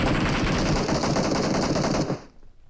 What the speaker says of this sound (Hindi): गोली वोली चल रही है भाई साहब यहाँ पर।